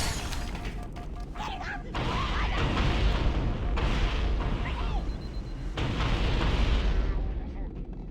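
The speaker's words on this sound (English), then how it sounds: "Grenade!" A grenade goes off in the video game Cursed Halo amid ongoing battle noise: loud, sustained roaring blasts and rumble layered with gunfire-like crackle, with voices shouting underneath.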